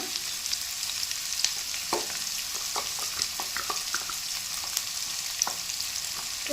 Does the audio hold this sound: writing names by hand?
no